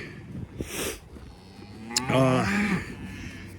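Cattle from a herd including bred heifers moo from a cow lot, one long low call standing out over faint outdoor background, with a couple of brief noises before it.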